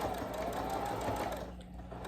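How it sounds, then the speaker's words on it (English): A sewing machine runs steadily, close and fairly quiet, stitching around a heart on a toddler blanket, then slows and stops near the end. "I'm just going to do a simple stitch"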